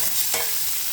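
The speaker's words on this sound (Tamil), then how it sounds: "பார்த்திங்கன்னா, வெங்காயம் ஓரளவு வதங்கிட்டுது." Onions sautéing in a pan for mushroom curry give a constant loud hiss and sizzle, with one brief stirring scrape partway through and no voices.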